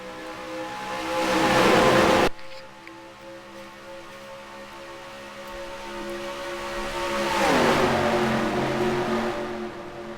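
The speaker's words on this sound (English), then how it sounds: "Juan Garcia, Audra Baranowskis, green flag in the Kripsy Kreme Series at Charlotte." Race cars in a sim racing game pulling away at the green flag start at Charlotte, a loud engine roar that cuts off abruptly, then a quieter multi-car drone that swells again as more cars rise in pitch.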